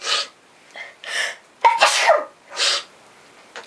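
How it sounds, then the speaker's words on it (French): A woman with sinusitis sneezes several times in a row, five loud, close bursts with short pauses between them and no talking. "je suis toujours en train d'éternuer comme ça"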